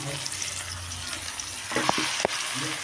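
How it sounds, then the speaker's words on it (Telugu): Steady hissing sizzle of chicken frying in a pan, with a few scraping clinks of a utensil stirring partway through. "ఈ విధంగా వేగిన తర్వాత చికెన్ వేసుకోవాలి"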